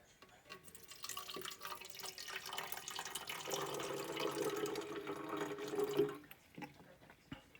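Liquid bacterial culture is poured into a container, giving a steady trickling, splashing flow of several seconds that swells, then tapers off with a few drips.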